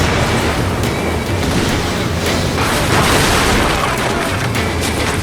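Ship cannons fire in a naval battle in Assassin's Creed Black Flag, a loud, continuous roar of booming volleys with sharp bursts layered over heavy low rumble, steady throughout.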